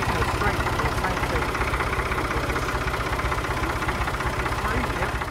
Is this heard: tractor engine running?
yes